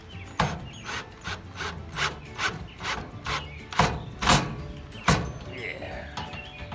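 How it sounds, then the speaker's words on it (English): Bolts being driven a little at a time to mount a sun visor on a Willys pickup, giving a series of sharp ratcheting clicks in short bursts, close and fairly loud, with some talk over parts of it. "these bolts are contoured to the curve, and I'm just going to simply drive them in"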